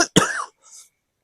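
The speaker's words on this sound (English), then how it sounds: "I'm going to have to clear my throat" A single person clears their throat close up with one short, harsh cough-like burst, followed by a faint trailing rasp and then silence.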